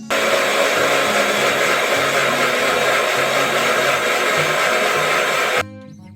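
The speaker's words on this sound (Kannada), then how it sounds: "ಈಗ ಇದನ್ನ ಹಾಕೊಂಡು ಮಿಕ್ಸರಿಗೆ ಹಾಕೊಳ್ಳೋಣ." Kitchen mixer blending banana, milk and sugar into a milkshake, a loud steady motor roar with churning for several seconds before it cuts off abruptly, no voices.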